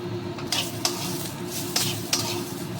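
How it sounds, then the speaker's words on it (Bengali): Dal ingredients being stirred and fried in a pan for a ridge gourd dal, with a steady loud sizzle under four or five sharp scraping strokes of a spatula, close and with no talking. "এবার এটাকে আমি নেড়ে একটু ভেজে একটুখানি আদা লঙ্কা বাটা দিচ্ছি"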